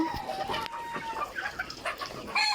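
Fayoumi chickens cluck steadily in a busy, noisy coop, with overlapping calls from several birds close by.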